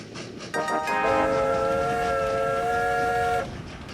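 A train whistle blows in the Train Valley game, one sustained multi-tone blast of about three seconds over a low rolling rumble, loud and close, with no talk.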